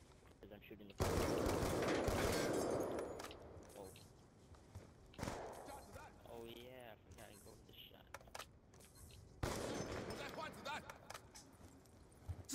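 Shooter video game gunfire in a private match, loud bursts of automatic fire breaking out in separate volleys with quieter gaps between, while players talk over the action.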